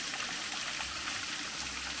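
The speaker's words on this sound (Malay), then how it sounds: "mini waterfall." Mini waterfall at a forest campsite, a steady soft hiss of running, trickling water, faint and continuous with no voices.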